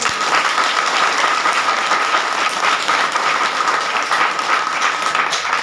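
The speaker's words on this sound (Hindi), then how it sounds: "जोरदार ताली हो जाए।" Loud, dense applause from an audience at a DXN meeting in India, many people clapping together in a steady roar that holds from start to finish.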